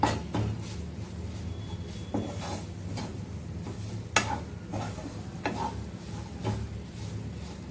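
Ragi kachori masala filling with lentils being dry-roasted and stirred in a pan: a soft background sizzle with periodic scraping strokes of a spoon and occasional light clinks, close and moderately quiet, with no talking.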